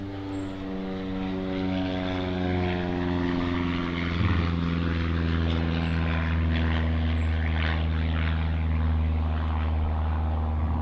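A propeller aircraft flies near Long Beach Airport, its steady droning engine tone holding loud and close throughout with no talk over it.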